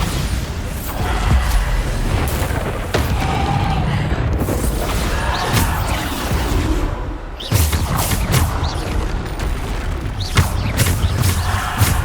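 Bombarda explosion spell in the Hogwarts Legacy video game: loud, dense booms and crashing blasts amid continuous combat noise, filling the whole stretch with barely a pause.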